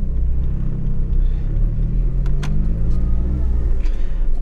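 A supercharged Volkswagen Gol G2 driving, its engine giving a loud, close, steady rumble inside the car, with a few brief rising whines from the revs.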